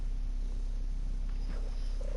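A female house cat purrs close to the microphone in a steady, low, continuous rumble, alone and without talk.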